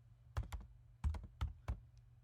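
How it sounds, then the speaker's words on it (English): Quiet, close clicking of fingers typing on a computer keyboard, a few quick bursts of keystrokes separated by short pauses. "We have to type all this stuff"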